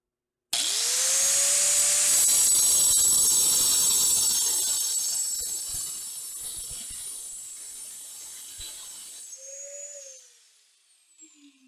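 A Lenox MetalMax cutoff wheel cuts through 3/8-inch mild steel round bar. It spins up to a loud, high grinding whine that holds steady, slowly fades, then winds down briefly near the end.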